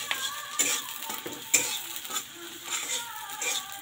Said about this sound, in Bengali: পেঁয়াজটা ভালোভাবে ফ্রাই করে নিই।